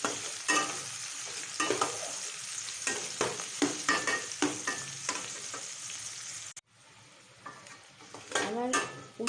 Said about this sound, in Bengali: এবার এই খোলা অবস্থাতেই সুন্দর করে লাল করে ভাজবো, আর আমি ঢাকা দেবো না।